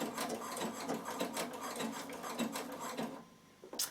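A Bernina sewing machine stitches a wool appliqué design in a fast, steady mechanical rhythm of close needle strokes, sewing a double stitch back and forth before it stops near the end.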